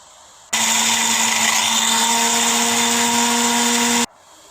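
An electric grinder pulverises whole spices for biryani masala powder, switching on abruptly into a loud, steady high-pitched whirring roar for about three and a half seconds before cutting off to quiet.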